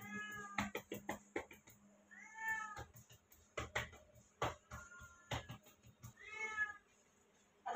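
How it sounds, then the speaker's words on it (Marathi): A domestic cat meows repeatedly in a kitchen, several drawn-out cries interspersed with knocks and clatter from cooking, fairly close with no talking. "प्रत्येक व्हिडिओ मध्ये मांजराचा आवाज आहे आपल्या."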